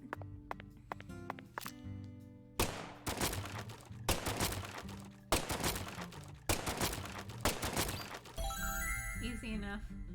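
Shots from the player's handgun in Deadly Premonition 2: six or seven sharp, loud reports spaced about a second apart, each with a short ringing tail, ending in a bright chiming tone.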